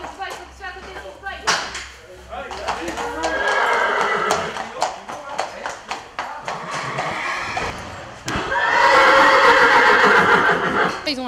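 Cadre Noir de Saumur horses just unloaded from a truck at a concert arena: loud, close whinnies and neighs ring out in bursts, mixed with hoof clip-clops and sharp taps, while people talk nearby.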